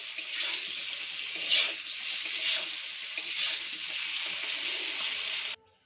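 Flat beans fry in hot oil over a medium-high flame as a loud, constant hiss with a few stirring bumps, then the sound cuts off abruptly near the end.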